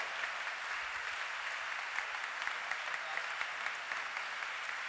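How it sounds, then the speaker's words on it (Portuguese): A church audience applauds as a pastor enters the service, a continuous, even roar of many people clapping heard from a distance at moderate volume. It lasts about five seconds with no voices on top. "eu queria que você recebesse, aplaudindo o nome do Senhor Jesus, o reverendo e pastor Cláudio Duarte"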